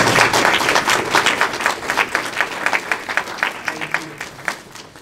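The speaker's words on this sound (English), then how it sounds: "One big round of applause." An audience at a disability awareness training event gives a big round of applause, dense steady clapping that fills the room and gradually thins and tapers off toward the end.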